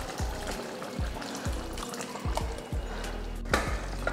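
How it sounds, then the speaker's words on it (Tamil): Dissolved tamarind water pouring into a pot of sambar, a steady close liquid splash and trickle with rhythmic gurgling pulses throughout, fairly loud and alone. "ஒரு சின்ன நெல்லிக்காய் அளவுக்கு புளி எடுத்து கரைச்சி இதில் சேர்த்துக்கலாம்"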